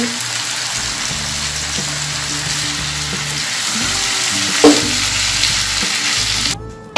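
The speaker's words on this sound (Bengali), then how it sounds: "এখন আমি এতে সেদ্ধ করে নেওয়া বুড়িটা দিয়ে দিচ্ছি আর মশলার সাথে ভালো করে একটু মিশিয়ে নিচ্ছি" Boiled beef tripe stir-fries with spices in a pan, giving a loud, continuous sizzle with a clatter of stirring partway through, then stopping abruptly near the end; there is no speech.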